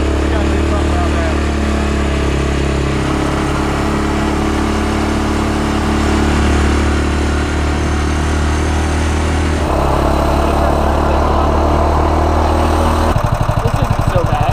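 A street legal golf cart with a gas engine drives along, its loud, steady mid-pitched motor droning throughout and shifting in tone near the end.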